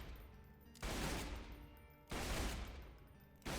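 A Bandit shotgun in Borderlands 2 fires repeated loud bursts of blasts at a steady pace, each burst ringing out briefly before the next, with nothing else heard.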